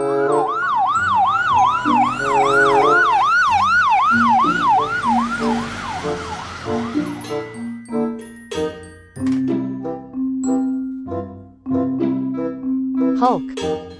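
Toy fire truck siren, a loud warbling electronic wail repeating rapidly, then giving way to toy beeps and short tones with a voice talking over it.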